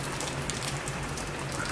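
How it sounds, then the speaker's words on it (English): Steady rain falls during a flood, making a soft, even hiss of drops on surfaces that continues without a break. It is fairly quiet and no one speaks over it. "Oh, listen to the rain."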